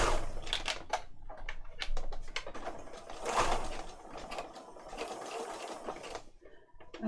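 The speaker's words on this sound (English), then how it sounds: "And then you can sew your ribbon on." Home sewing machine stitching ribbon onto a paper junk journal page, a quick rattling mechanical patter in short uneven bursts, close and moderately quiet, running alone without talk.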